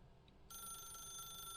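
A phone in The Stanley Parable starts ringing abruptly with a bright, sustained electronic trill that continues steadily, loud and alone.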